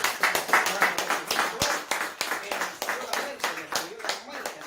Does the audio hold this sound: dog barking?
no